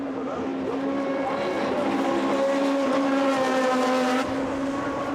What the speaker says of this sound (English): Hartley drifts out wide into the Vale, and now really feeling the pressure